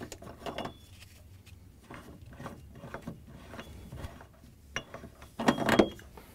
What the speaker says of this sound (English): Light bulbs you just want to unscrew and set somewhere so they don't get broken.